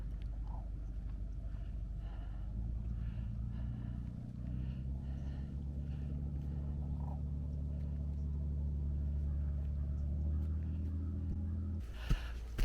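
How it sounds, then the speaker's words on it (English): Motorboats on the water at a nature preserve, a low steady engine drone rumbling faintly in the distance for the whole stretch, with a couple of sharp nearby knocks at the end. "Hear the boats."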